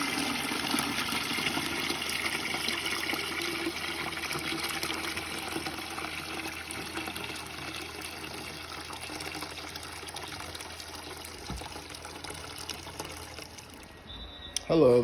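Water runs steadily throughout a professional couch cleaning job, a broad continuous hiss holding level for about fourteen seconds before cutting off near the end, with faint background sounds over it.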